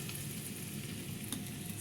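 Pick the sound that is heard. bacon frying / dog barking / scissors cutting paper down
bacon frying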